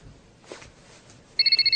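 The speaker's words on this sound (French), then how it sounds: "Il doit avoir un portable." A mobile phone starts ringing near the end, a bright repeating electronic tone pulsing about five times after a quiet stretch with a faint rustle.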